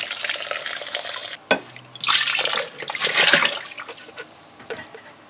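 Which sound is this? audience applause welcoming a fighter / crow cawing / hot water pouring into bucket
hot water pouring into bucket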